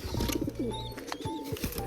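Pigeons in a home loft coo in soft, low repeated murmurs near the listener, with a few brief higher chirps and rustles over steady background noise.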